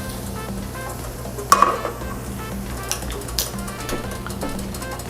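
Bacon sizzles gently in a pan as it is lifted out, a low steady frying hiss punctuated by a few sharp utensil clinks and taps nearby.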